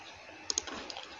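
A few quick keystrokes on a computer keyboard while lettering is typed for a burial souvenir design, soft and close with a short pair of clicks standing out.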